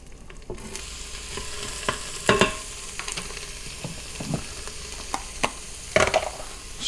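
A large sweet onion hits hot, shimmering grease in an Instant Pot and fries with a steady, close sizzle. Sharp spatula scrapes and taps sound as it is stirred, with no voices.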